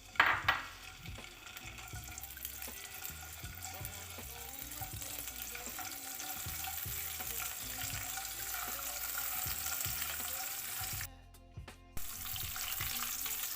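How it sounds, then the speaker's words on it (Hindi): Chopped cashews and raisins roast in five tablespoons of desi ghee in a pan, giving a steady soft sizzle with scattered stirring clinks and scrapes throughout, moderately close and unbroken by talk. "इनको ड्राई रोस्ट करेंगे।"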